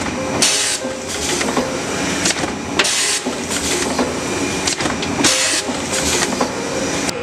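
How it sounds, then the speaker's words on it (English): A doypack powder filling and packing machine for premade spouted pouches runs steadily, its encoder printing dates with rhythmic pneumatic hisses and mechanical clacks repeating about every two and a half seconds, loud and close. "At the same time, the encoder will print the date on the pouch."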